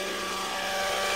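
Radio-controlled autonomous helicopter in flight, a steady broadband whirring drone with a faint tonal hum, fairly loud and continuous with no voices.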